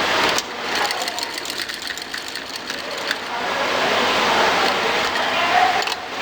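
A sewing machine stitches a neck design on fabric in a rapid, steady mechanical chatter, close and continuous, easing and picking up again over several seconds.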